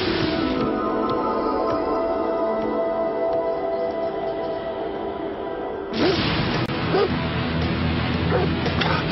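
A dog barks and whimpers in a French fantasy television episode, the yelps and whines heard over continuous background music, with a sharp change in the sound partway through.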